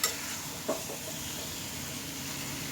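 Spinach stems fry dry in a pan with a steady, soft sizzle, a couple of light scrape-and-stir touches near the start, no talking.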